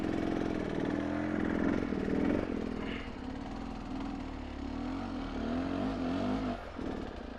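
A dirt motorcycle engine held at low, steady throttle on a steep hill-climb course, a continuous close, moderately loud drone with small rises and dips, under a commentator's voice.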